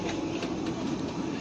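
Steady rumble and rolling rail noise inside a coach of the Vande Bharat Express on the Howrah to Puri run, continuous and fairly loud with no voices.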